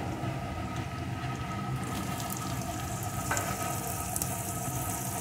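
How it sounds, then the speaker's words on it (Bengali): Potato pieces and chopped onion frying in a pan, a steady dense sizzle with light stirring and scraping, close and continuous with no talk. "এখন আমি টুকরো করে কেটে রাখা আলুগুলোকে দিয়ে দেবো"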